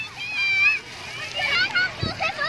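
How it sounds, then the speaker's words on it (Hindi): A park water fountain splashes and runs continuously in Central Park, Lahore, with voices and children chattering close by over the steady spray. "तो ये सामने जी फाउंटेन एक चल रही है बड़ी ज़बरदस्त"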